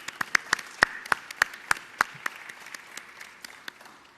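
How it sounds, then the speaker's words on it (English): Sparse applause from a small group at a New York governor's coronavirus press briefing: a run of sharp, distinct hand claps at an uneven pace that thins out over a few seconds, with no talk over it. "Let's give them a round of applause."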